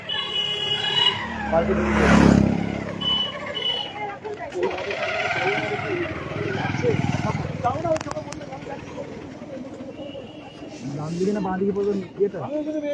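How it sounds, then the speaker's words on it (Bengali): A car drives along a road with a motorcycle following behind, its engine rumble and road noise running steadily under people talking nearby. "এই যে গাড়িটা মোটর সাইকেলে ফলো করো"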